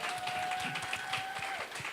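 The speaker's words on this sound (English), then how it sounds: "a big round of applause" An audience at a festival book chat claps in a short burst of applause, moderately loud and continuous, with a faint tone running under it.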